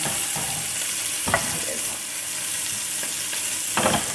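Chopped onions frying in a pan for a sofrito base in a ragù, giving a steady broadband sizzle with a few louder bursts as they are stirred, close by, with no talking.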